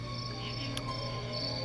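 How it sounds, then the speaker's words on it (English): Crickets chirping near woods at night, a steady high-pitched trill droning continuously and fairly loud, with a faint low hum underneath and one brief sharp click partway through. "There's mad crickets and stuff."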